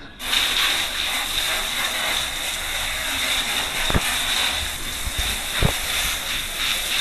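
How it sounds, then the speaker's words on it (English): Steady, loud hiss of a pressurized water spray washing a split air conditioner filter, running continuously, with a couple of faint knocks partway through. "Now let's blow water on this filter."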